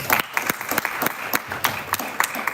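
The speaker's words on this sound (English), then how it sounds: "Give him a round of applause" Applause for the final act at a live poetry or music show, with scattered individual claps standing out as a small audience claps unevenly for a couple of seconds.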